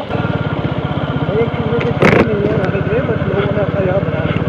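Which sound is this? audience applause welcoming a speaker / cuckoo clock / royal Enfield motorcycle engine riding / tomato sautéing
royal Enfield motorcycle engine riding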